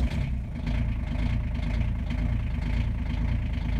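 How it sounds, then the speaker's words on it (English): A small 719 cc Kubota diesel engine idles nearby while warming up, a low, steady chugging rumble with an even, throbbing rhythm throughout. "how long it takes for this engine to warm up if we let it idle."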